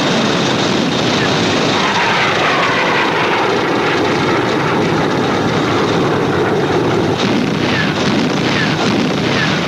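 A loud, continuous roar of military aircraft engines from the Battle of Berlin drones throughout, dense and unbroken, like planes passing close overhead.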